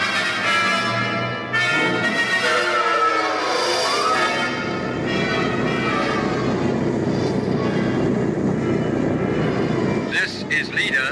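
Propeller aircraft engines drone steadily in an old-time radio drama bomber raid, a loud continuous roar throughout, with a voice talking over it near the end.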